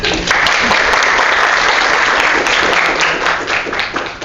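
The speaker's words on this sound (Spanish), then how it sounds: "Lorraine, te invitamos a pasar adelante y te damos un fuerte aplauso" Loud, sustained applause from a university lecture audience welcoming a speaker to the front, a thick roar of clapping that holds steady and then tapers slightly near the end.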